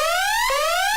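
A synthetic alarm tone played on a live coding stream, a loud steady rising whoop with a bright harmonic stack that jumps back down midway and climbs again, filling the whole second alone.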